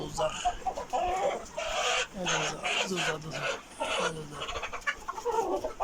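Tiger-breed chickens, about four months old, cluck and call loudly and repeatedly close by in a farm flock, with someone talking over them throughout.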